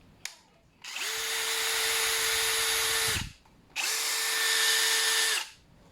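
A Prostormer 20V brushless cordless hammer drill spinning freely in two bursts of about two seconds each, a close, steady high whine that ramps up and winds down, with a faint click before the first run.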